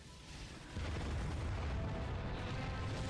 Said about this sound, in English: the defense cannon and destroy a few ships in the sky